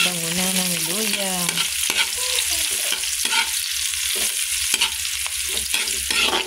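Ginger sautés in a hot pan for chicken tinola, a loud continuous sizzle broken by sharp repeated scrapes and clinks of a utensil stirring; a faint tonal sound opens the first second and no one speaks.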